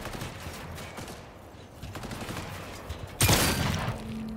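A sharp burst of gunfire in the game Cyberpunk 2077: Phantom Liberty erupts near the end, preceded by rumbling action noise; a short volley of shots, loud and close.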